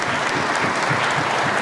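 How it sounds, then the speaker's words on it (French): Audience applause at a public debate on secularism, a dense steady wash of clapping filling the hall from start to finish with no voices over it. "ça s'applaudit s'il vous plaît"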